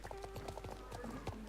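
Starter horses in the online game Star Stable Online clip-clop in a quick, even rhythm, with a short whinny mixed in, all close and clear over a low background hum.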